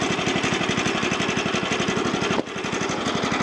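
A Woodland Mills HM122 portable sawmill cuts through a log with a loud, steady engine drone and rapid pulsing from the saw, then a brief dip near the end before the roar carries on.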